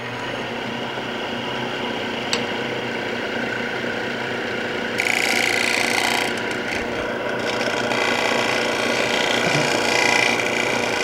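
A turning gouge cuts into a maple crotch calabash bowl on the lathe, giving a steady close scraping hiss that grows harsher and louder midway and keeps going without pause. No one speaks.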